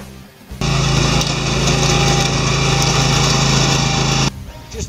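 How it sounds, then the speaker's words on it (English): Kawasaki V-twin engine on a ride-on lawn mower running steadily at high throttle, a loud, even drone with a strong low hum that starts abruptly and cuts off near the end, with no talking over it. "Kawasaki V-Twin, 10 times better looking than the Olsen Twins"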